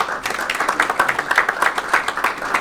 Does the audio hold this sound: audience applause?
yes